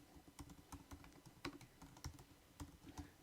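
Steady typing on a computer keyboard, a run of quick close keystrokes with an irregular rhythm, clear and alone at low volume.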